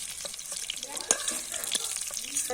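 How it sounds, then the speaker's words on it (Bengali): Steady crackling sizzle of cabbage and egg batter fritters frying in hot oil, with small pops and a brief clink of a utensil, close and continuous. "নামিয়ে পরেরগুলো দিচ্ছি তেলের মধ্যে ছেড়ে"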